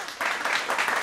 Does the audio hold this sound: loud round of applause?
yes